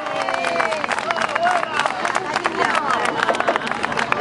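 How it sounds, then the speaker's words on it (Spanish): Fairground crowd claps and cheers for a young singer at an April Fair show, a steady wash of applause with overlapping voices and a host speaking over it. "Ese fuerte aplauso para ella,"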